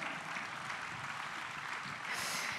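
Steady applause from an audience, a dense wash of clapping that holds throughout and swells slightly near the end.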